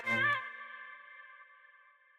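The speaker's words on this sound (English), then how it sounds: "this little reverb automation on the leads." A bright synth lead note in a future house track rings out, then its automated reverb tail sustains and slowly fades over about two seconds.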